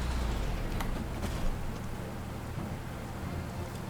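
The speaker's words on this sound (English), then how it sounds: "especially since it's raining" Steady rain falling in the war strategy video game Panzer Corps 2, a dense continuous hiss with a low rumble beneath it, constant and even throughout with no voices.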